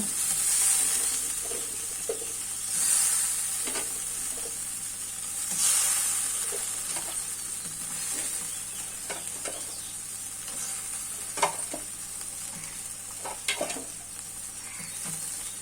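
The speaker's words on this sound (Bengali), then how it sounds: "ঝোল ফুটে উঠেছে, ভেজে রাখা মাছগুলো ছেড়ে দিব। ভেজে রাখা বড়াগুলোও ছেড়ে দিব।" Fried magur fish and fritters go into a simmering curry, and the pot keeps up a steady sizzle and bubbling hiss with a few soft stirring clatters and small knocks from the utensils. Nobody speaks.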